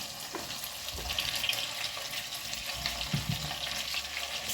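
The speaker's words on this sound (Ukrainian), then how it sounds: "Все обсмажую." Pork belly and young kohlrabi sizzling in a pan for a stew, a steady soft frying hiss with faint occasional clinks, heard close and alone without talk.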